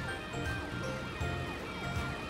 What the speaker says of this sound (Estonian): Matt läks kiirabiauto Amberit kutsuma.